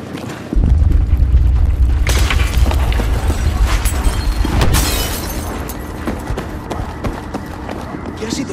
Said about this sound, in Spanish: Un temblor.